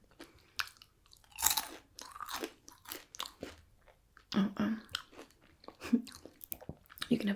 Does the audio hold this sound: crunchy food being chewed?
yes